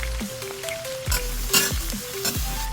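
Garlic with red and white onions sautéing in a hot pan for an old-fashioned Filipino dish, a steady close sizzle with repeated scraping stirs of a utensil against the pan.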